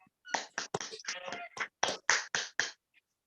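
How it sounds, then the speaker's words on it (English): Brief bursts of audience clapping at a city board of aldermen meeting, following a pastor's prayer; several short, separate rounds of hand claps that stop and start before fading to quiet. "I'll give Pastor Watson a round of applause."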